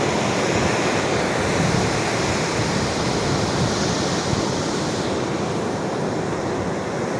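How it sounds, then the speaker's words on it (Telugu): Sea waves wash up the shore at Suryalanka beach in Bapatla as a continuous close roar of surf and rushing water. "ఇక్కడికి వచ్చేస్తాయి అలలు."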